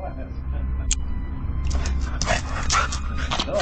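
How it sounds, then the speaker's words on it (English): A dog standing outside a home gives a few short barks and whimpers against low outdoor rumble, with voices talking over it. "we see the pet owner's current dog, Shiloh, standing outside the home"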